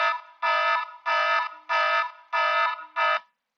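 An alarm tone played by an Android app: five loud, evenly spaced electronic beeps of about half a second each, rich in harmonics, with short gaps between them, alone and without talk.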